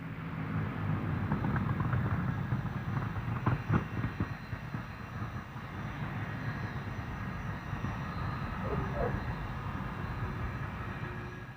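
Avro Lancaster Second World War bomber of the RAF Battle of Britain Memorial Flight flying past at the 1987 International Air Tattoo at RAF Fairford, a steady broad piston-engine drone with crowd-like background noise throughout.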